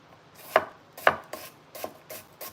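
A knife chops food on a board in a run of sharp, close knocks, two heavy strokes followed by several lighter ones, with no talk.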